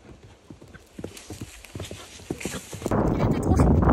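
The pony Quantum clip-clops at a steady rhythm during a jumping ride, close and clear. A louder rushing, scuffling burst takes over near the end, and faint voices are mixed in.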